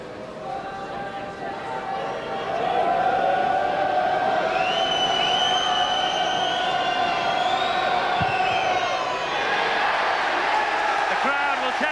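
A stadium crowd at a 1995 Wales v England rugby match roars steadily after a successful Welsh penalty kick, a sustained loud swell that holds for several seconds under a commentator's voice.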